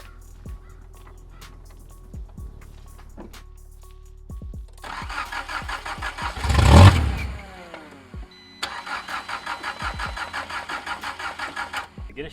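A junkyard Nissan S12 primed with starting fluid cranks in short repeated bursts, then catches and fires, revs hard once, drops back, and settles into a rough, steady idle close by.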